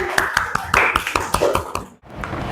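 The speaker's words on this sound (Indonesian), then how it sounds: "Beri tepuk tangan." Classroom audience clapping after a group presentation, a small group of hands in uneven, distinct claps close by, mixed with voices before stopping abruptly near the end.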